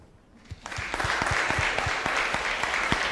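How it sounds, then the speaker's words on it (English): Audience applause at the close of a two-day live-streamed conference, a dense patter of claps starting after a brief quiet moment and holding steady and fairly loud to the end. "Let's clap for each other last time and say goodbye."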